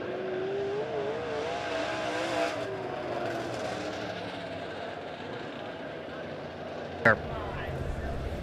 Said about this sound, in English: the next group of cars rolling out